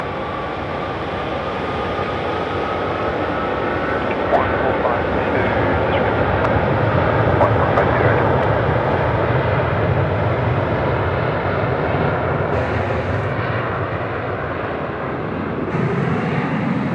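A jet airliner rolls down runway 16 left at Sydney Airport at night, its engine roar steady and loud throughout with a broad rumbling hiss and a faint tonal whine on top.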